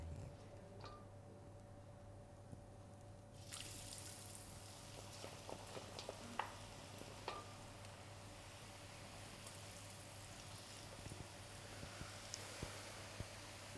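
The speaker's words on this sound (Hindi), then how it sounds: "और अब फ्राई इसके अंदर डालेंगे।" Cornflour-coated French fries dropped into hot oil over a raised flame, a soft steady sizzle switching on a few seconds in and carrying through with scattered small crackles and pops over a low background hum, no voices.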